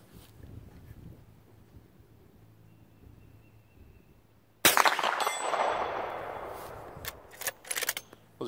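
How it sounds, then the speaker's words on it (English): A loud sharp report from a Henry Big Boy X lever-action rifle firing hand-loaded .357 Magnum rounds at 100 yards outdoors, a single blast with a ringing tail, then a few quieter clanks and knocks after a quiet, windy lead-in. "Let's try 100 yards with my hand-loaded 357 Magnums."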